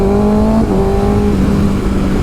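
A sport motorcycle pulls away hard from a stop sign at full throttle, its engine note rising loud and close as revs climb, then dropping briefly with a gear change before climbing again.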